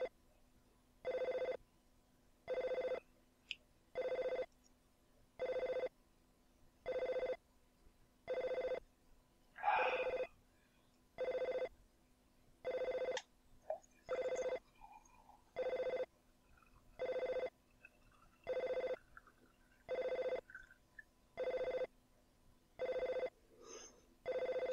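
A telephone bell rings in a steady repeating pattern of roughly fifteen long rings separated by short gaps, loud and close. Faint room noises, and a man pouring a glass of wine, turn up between the rings.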